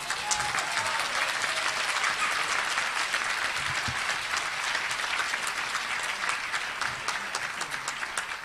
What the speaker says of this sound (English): Let's have another nice round of applause for the Dr. Reverend King.